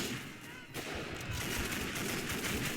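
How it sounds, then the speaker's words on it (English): Light machine guns fire in a combat video game, a dense continuous rattle of rapid shots with distant booms mixed in, steady and fairly loud throughout. "these light machine guns do pack quite a punch"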